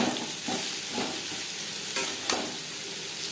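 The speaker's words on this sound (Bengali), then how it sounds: "উচ্ছের সাথে লবণ হলুদ বেশ ভালো করে মিক্স করে দেব।" Bitter gourd pieces stirred with salt and turmeric in a hot pan of oil: a continuous sizzle with soft, periodic scraping strokes of a spatula, close and steady, no voices.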